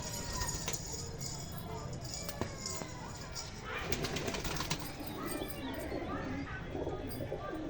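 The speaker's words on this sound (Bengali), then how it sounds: "এই জাগমুখিয়া পায়রা দুটো" A pair of Jagmukhia pigeons coo in low, intermittent murmurs amid a busy background, with a brief flutter of activity and no one speaking.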